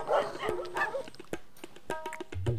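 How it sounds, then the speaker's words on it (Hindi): Several dogs bark in sharp, irregular bursts, some near and loud, with yips and a short whimper between barks and no talking over them. "ये कुत्ते क्यों भूक रहे हैं इतने?"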